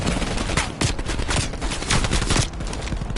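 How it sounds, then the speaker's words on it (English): Heavy machine gun fire roars in a Call of Duty shooter, a dense, loud, continuous stream of rapid shots and blasts filling the whole stretch, easing slightly toward the end. "Watch it, heavy MG on the ridge."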